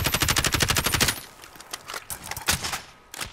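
Rapid automatic gunfire in a Call of Duty: Modern Warfare match, a loud sustained burst for about a second, then scattered single shots and impacts with game ambience, no voices.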